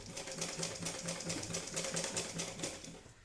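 A domestic sewing machine runs steady stitches, a fast even mechanical chatter with a rhythmic low thump from the needle, close and continuous, with no voices over it.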